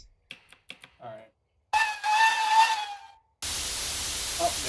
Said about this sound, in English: Oh, there goes the safeties